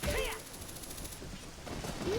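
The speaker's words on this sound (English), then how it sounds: "Hook shot over here." A hookshot firing in The Legend of Zelda: Ocarina of Time, heard as a quick burst of rising game tones followed by a steady mechanical whirr and a rising zip near the end, loud and close with no talking.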